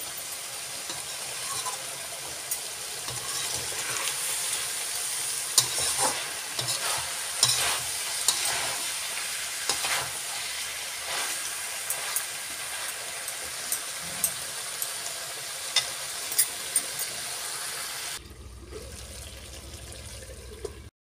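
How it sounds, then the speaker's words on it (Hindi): Restaurant-style mixed vegetables sizzle and fry in a pan as their water cooks off, a steady hiss with periodic stirring scrapes and clacks, until the sound cuts to a low hum near the end. "जो भी इसमें पानी की हल्की हल्की सी आवाज आ रही है वो सारा पानी जब सूख जाएगा"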